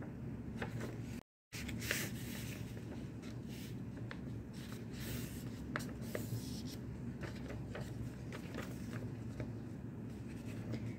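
Sheets of paper being folded and creased by hand during a children's church craft activity, steady soft rustling and rubbing with brief sharper crinkles, close and continuous, no talking.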